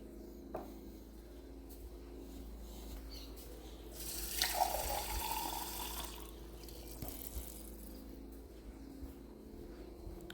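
Water runs briefly from a tap into a container for a few seconds midway, fairly faint against a steady low room hum, with quiet handling sounds before and after.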